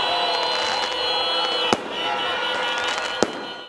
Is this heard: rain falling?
no